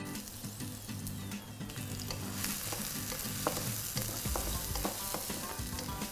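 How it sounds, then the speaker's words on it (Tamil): Onions fry in hot oil in a pan while being stirred, a steady close sizzle running the whole time with scattered crackles and scraping stirs. "ஓகே, நல்லா சூடாயிடுச்சு. ஸோ இப்போ நம்ம வந்து வெங்காயம் ஆட் பண்ணிடலாம்."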